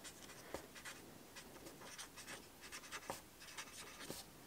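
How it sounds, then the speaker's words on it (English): A pen scratches across a small scrap of paper in short, quick strokes with brief pauses between them, close and quiet, with no voices. "And you could just write on it."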